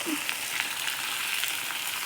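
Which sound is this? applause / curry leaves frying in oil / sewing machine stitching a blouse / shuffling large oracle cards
curry leaves frying in oil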